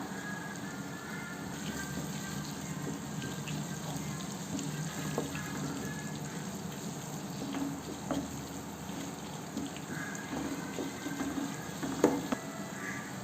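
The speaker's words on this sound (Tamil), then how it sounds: "சின்ன வெங்காயம் வரமிளகா இஞ்சி பூண்டு பேஸ்ட்டு இது மூணு நல்லா வதங்கி வந்துருச்சு" Shallots, dried red chillies and ginger-garlic paste sauté for chicken chinthamani, a steady, low hissing sizzle with occasional soft stirring clicks, close and even, no speech.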